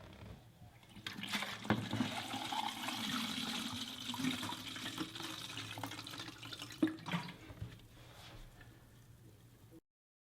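Water runs and splashes steadily while developed Fuji Velvia 50 film is rinsed at 105 degrees, a continuous close faucet-like gush with a few drips and clatters, no talking.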